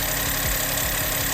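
A VW/Škoda 1.0 TSI three-cylinder engine idles on Liqui Moly Molygen oil, a steady close hum with a low, even pulsing throb and no voices.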